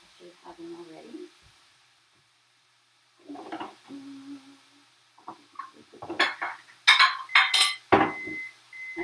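Dishes and cutlery clink and clatter as a bowl is fetched in a home kitchen while a turkey, sweet potato and zucchini skillet cooks; bright, close, irregular knocks come in a busy burst near the end, after stretches of talk.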